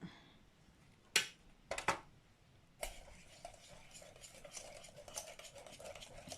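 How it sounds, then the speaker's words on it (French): Energy cake batter with dried fruits is mixed in a bowl, with a few sharp utensil clinks and scrapes followed by softer, continuous stirring, heard close and fairly quiet. "on va mélanger tout"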